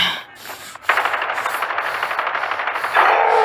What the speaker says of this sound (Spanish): Ahora sí te voy a llenar de balazos.